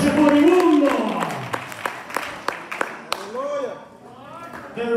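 A church congregation claps during a lively Spanish-language service: sharp, scattered handclaps ring out under loud, continuous voices and shouting, then thin out as the noise settles.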